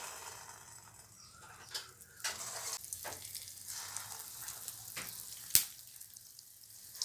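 Idli bonda frying in hot oil flavoured with cumin and curry leaves, a faint, quiet bubbling sizzle broken by a few sharp clinks and scrapes of a utensil, with no talking.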